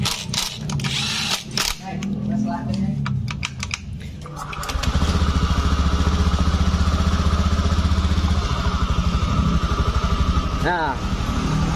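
A Honda automatic scooter idling after its rear pulley bearing was replaced, starting with a burst of clicks and tool rattles, then settling into a smooth, steady engine hum close by, with a brief voice near the end.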